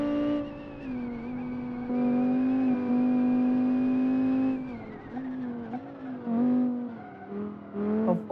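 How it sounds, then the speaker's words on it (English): A Vauxhall Vivaro van with a sequential gearbox, driven in the BeamNG driving game, gives a steady high whine that holds its pitch, then wavers and dips as the van shifts and slows, with no talk. "Listen to this sequential whining. Yep, sequential gearbox whine."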